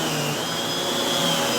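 A Prolux backpack vacuum cleaner runs at full suction with a steady, even whine and airy rush, unbroken and fairly close, with no talking over it.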